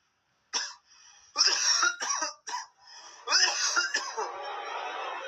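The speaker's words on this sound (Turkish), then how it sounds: "Boğazımı temizleyeyim." A young man clears his throat and coughs several times in short, loud bursts separated by brief pauses, ending in a longer rasping throat sound, close to the microphone in a home setting.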